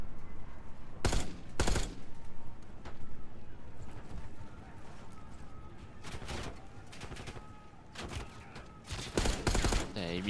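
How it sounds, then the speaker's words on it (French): Bursts of automatic gunfire in the video game Black Ops 6, several short rapid volleys spaced through a busy game soundscape, with a player talking over them. "Eh, mais il tire trop bien."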